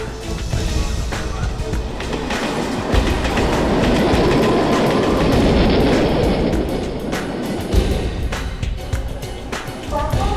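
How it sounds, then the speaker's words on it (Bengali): A train rumbles loudly past a platform, wheels clattering over rail joints in a continuous rhythmic roar that swells and then eases. "কোলাপাটনা ভায়া নাসিক যাওয়ার ট্রেন 3 নম্বর প্ল্যাটফর্মে আসছে।"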